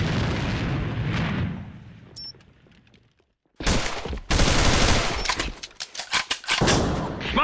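A C4 charge detonates in a military video game: rumbling battle noise fades to near silence, then a loud close blast erupts, followed by heavy bursts of gunfire and further explosions.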